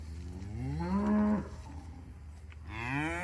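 Cows on a pasture farm low loudly, one long rising moo close by followed by another bellow near the end, with no talking.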